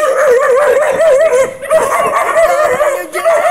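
Impounded dogs and puppies howl and whimper in a loud, close, continuous chorus. The voices overlap with wavering pitch and brief dips, and nobody speaks over them.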